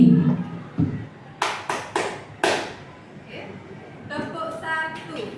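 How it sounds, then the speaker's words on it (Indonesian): Hand claps during a clap-one ice-breaking game in a group session, several sharp claps in a quick run of about four, close and fairly loud, with voices talking before and after. "Kalau misalnya saya bilang tepuk 1, Bapak Ibu tepuk seperti ini"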